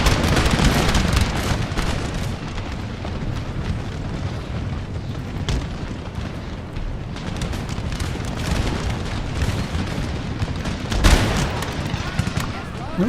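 Soldiers in an Empire: Total War battle, modded with Darthmod, keep up dense massed musket volleys, a constant crackling roar of shots and booms, with a voice talking over the din.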